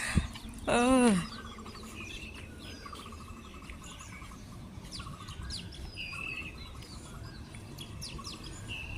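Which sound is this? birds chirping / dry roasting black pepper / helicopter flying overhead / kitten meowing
birds chirping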